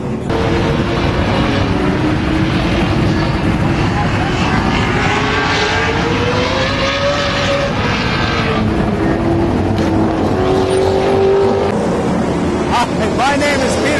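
Cars racing on a speedway track, a loud sustained engine drone with rising and falling revs as they pass, mixed with a voice talking.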